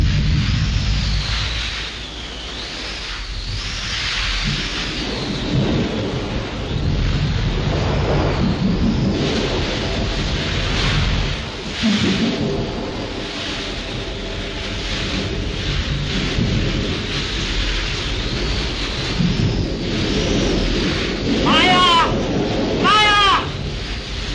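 A thunderstorm in a 1937 Hindi film, Prem Kahani: heavy rain hisses steadily while deep thunder rumbles roll in and out, with a few fainter sounds layered through the storm.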